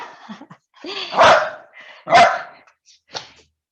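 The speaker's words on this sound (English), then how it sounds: "My dog thinks I'm playing with him." A pet dog indoors during a home yoga session gives three sharp, loud barks close by, with small yips and huffs between them.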